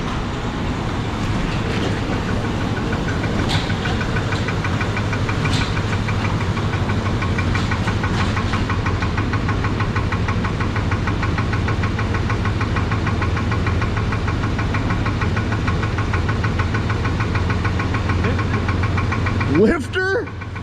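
A 1984 Chevrolet one-ton pickup's 454 big block engine with a worn rod idles close by, a steady rumble carrying a rhythmic knock throughout, with a brief clatter near the end.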